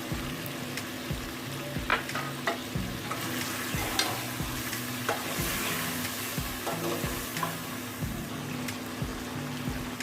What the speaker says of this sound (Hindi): और 1 कप हमारे पास दही है, वो इसमें डाल देंगे।